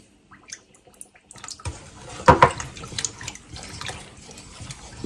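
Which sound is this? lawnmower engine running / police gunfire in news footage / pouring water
pouring water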